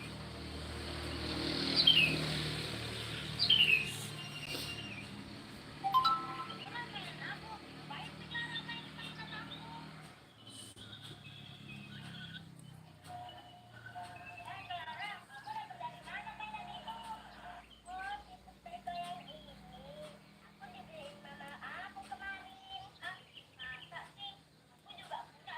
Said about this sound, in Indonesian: Bunyi dia, Dek. Burungnya.